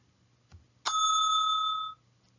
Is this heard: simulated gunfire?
no